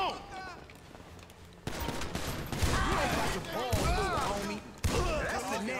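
Bursts of gunfire in the PC version of GTA V, loud rapid shots that come in clusters. Someone talks over the game sounds.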